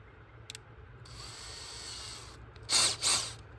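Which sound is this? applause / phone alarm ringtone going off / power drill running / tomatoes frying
power drill running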